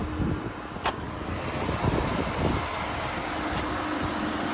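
A 2003 Volkswagen New Beetle 1.8T with a six-speed manual runs with the hood open, giving a steady engine hum with fan and belt noise, a faint ticking quality and a brief sharp click near the start.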